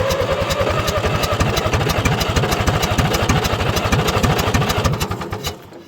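Oliver tractor engine cranking over and catching, then running with a steady loud chugging pulse close by for most of the span before tapering off at the end.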